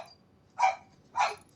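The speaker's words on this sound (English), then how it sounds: "we got Farm Dog Murphy chiming in" A small Havanese, Shih Tzu and Pekingese mix dog barks twice, evenly spaced, sharp and fairly close against a quiet background.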